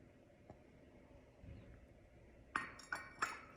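A few light clinks of glass or fine china, three sharp rings near the end after soft handling noises, close and fairly quiet with no talking.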